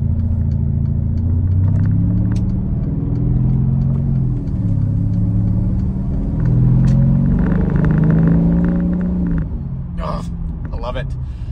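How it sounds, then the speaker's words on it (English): A Mercedes SL550 R231 with its exhaust cutouts open revs in an empty parking lot. The loud, deep engine note swells and falls through several revs, and sharp crackling bursts come near the end. "So let's take it to an empty parking lot now and let's rev it up."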